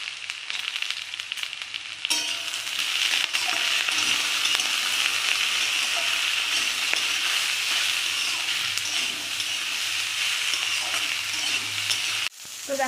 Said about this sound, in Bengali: নুন কাঁচা লঙ্কা দিয়ে একটুখানি আমি ভেজে নিয়েছি